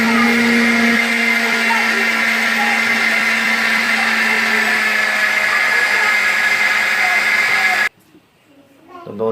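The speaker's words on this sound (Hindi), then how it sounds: "तो दोस्तों अंडे, चीनी और ऑयल ब्लेंड हो गया" A blender runs loud and steady, whirring as it mixes eggs, sugar and cooking oil into a cake batter, then cuts off abruptly near the end, leaving quiet room noise.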